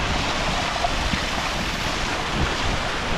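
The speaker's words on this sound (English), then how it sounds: "Got a little spillway down here." Water pouring down a small spillway into a river below snowy mountains, a steady, close rushing wash that fills the whole clip with no voices.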